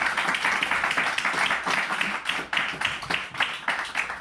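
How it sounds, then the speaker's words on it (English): Enthusiastic applause from a panel discussion audience, dense steady clapping filling the room throughout. "Let's just do one more round of applause"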